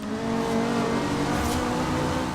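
Ferrari engine screaming against its rev limiter at about 9,500 RPM in Forza Horizon 2, a loud sustained high-pitched howl with a steady buzzing bounce, alone with no speech.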